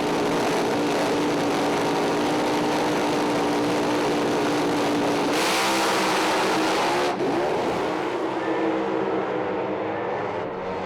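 Loud, sustained engine roar from a dragster and a funny car on a drag racing qualifying run at Willowbank Raceway. A steady blast briefly surges and shifts midway, then fades slightly toward the end, with no talking.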